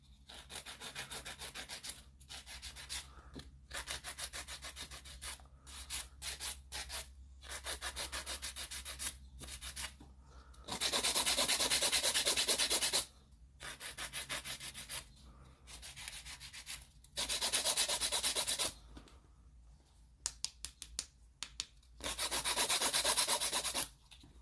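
An 80 grit file rasps across acrylic nails in a series of scratchy strokes, some short and choppy and others long and loud, close by with brief pauses between passes and no talking.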